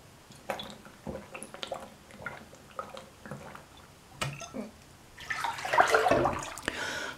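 Water in a bathtub sloshes and drips softly as someone shifts about in it, with quiet splashes building into a fuller, nearby swirl of water toward the end.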